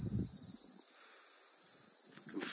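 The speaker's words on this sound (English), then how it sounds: "You can hear those little bugs. They're called cicadas." Cicadas drone outdoors near the ocean as a steady, high, buzzing insect hiss that runs unbroken from start to finish, with a faint wind rumble underneath and no voices.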